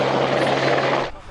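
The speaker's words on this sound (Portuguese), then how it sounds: "O helicóptero do Graer sobrevoou a unidade." A police helicopter passes low overhead, a loud steady rotor roar with a throbbing drone that cuts off abruptly after about a second.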